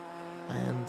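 A Juno sports car races through a tight corner on the Brands Hatch Indy circuit, its engine note rising sharply as it hunts for grip on the exit, a brief close burst of revving.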